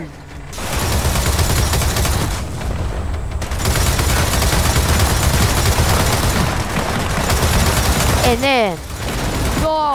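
Dense, loud gunfire and explosions from the video game Gears of War 4 roar almost without a break, with sharp rapid bursts and a few descending whistling tones near the end; someone talks briefly over it.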